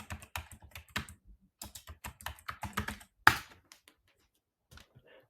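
Typing on a computer keyboard during a FortiPAM SSH session: a run of close, crisp key clicks in uneven bursts, with one louder keystroke near the end and a few sparse taps after a pause.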